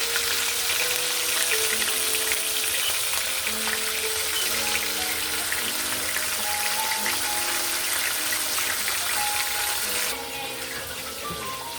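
Porgy fish fries in hot oil in an ordinary pan, a steady, close, bright crackling sizzle that keeps on without a break, with music playing underneath and no one speaking.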